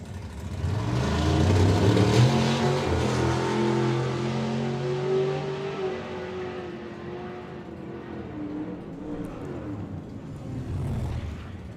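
A drag racing car launching hard and accelerating, its loud engine roaring with a rapidly climbing pitch through the gears before fading away into the distance.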